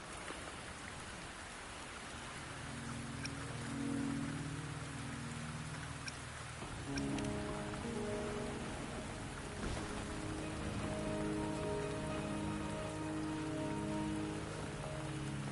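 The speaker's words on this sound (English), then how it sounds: "Don't worry, the rain won't last much longer." Rain with thunder in the video game Wuthering Waves: a dense steady hiss of rainfall with low rumbles, while sustained musical tones rise in over the downpour partway through.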